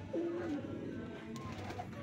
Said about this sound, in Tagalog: So yan nga yung mga kalapati natin na breeder.